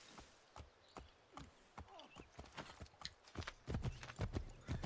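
Horse hooves clip-clop at a walking pace in the Assassin's Creed III video game, a regular series of sharp clicks that grows louder and quicker toward the end, with a faint voice in the background.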